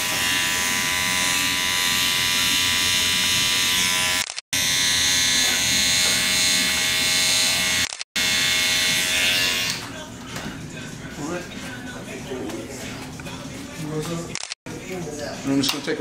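Electric hair clippers buzz steadily and close up while grazing the edges of a client's hair freehand, in bursts separated by brief pauses, the motor tone changing slightly toward the end.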